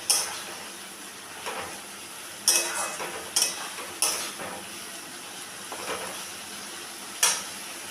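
Spice paste with whole garlic cloves and a splash of water being sautéed for koi fish curry, giving a faint soft sizzle with several sharp scrapes and clinks of a utensil against the pan at irregular intervals.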